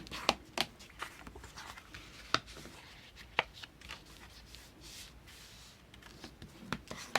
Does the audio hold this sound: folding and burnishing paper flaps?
yes